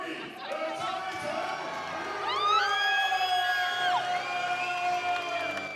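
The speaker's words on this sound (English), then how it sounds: "the crowd has come up in support of Tommy Brown in the end" Boxing crowd at a Singapore fight event cheering and whooping in support of Tommy Brown, with rising shouts and hollers swelling over a steady arena roar.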